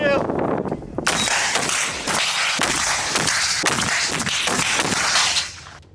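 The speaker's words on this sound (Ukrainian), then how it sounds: "РПГ! Постріл!" A sharp initial blast followed by a series of loud, echoing weapon reports fired in quick succession outdoors, as from an RPG launcher and gunfire at a military shooting training exercise.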